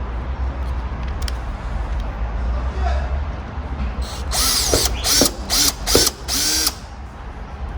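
A power drill bores holes through the roof of a Tofaş car to mount a new headliner, in short loud whining bursts over a steady background hum, with people talking nearby.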